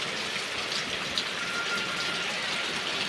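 Rain pours steadily over a village, a dense, even hiss of falling water that holds at a constant level throughout with no voices.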